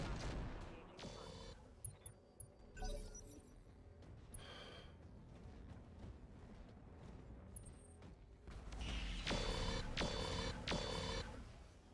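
Weapons fire in the RogueTech mech combat game as bursts of booming shots and rumbling impacts, loud clusters at the start and again near the end, over a dense background of game noise.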